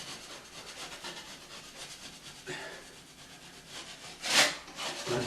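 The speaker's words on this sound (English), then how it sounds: "I'm just using my 3-inch putty knife for this." A 3-inch putty knife scrapes across a drywall patch in short rasping strokes, close and fairly steady, with one sharper, louder scrape near the end.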